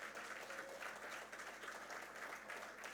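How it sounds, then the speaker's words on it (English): An audience applauds steadily at a business livestream event honouring a company's 90 years, a dense wash of clapping hands at moderate distance with no talk over it. "big round of applause"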